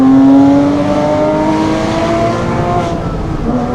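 A Porsche Boxster S engine revs loud and close, a rising and then settling roar with strong harmonics that eases back after the first second and keeps droning, no voices over it.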